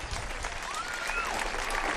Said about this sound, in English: Right now, everybody applauding because whoever is injured is going to be taken out.